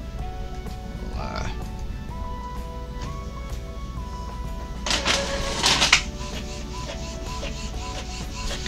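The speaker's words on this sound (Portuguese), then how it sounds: "Vou imprimir uma foto agora pra gente." An Epson EcoTank L3110 inkjet printer prints a photo, giving a steady mechanical whir with rising and falling motor tones and a louder burst of paper feed near the end, while a person talks over it.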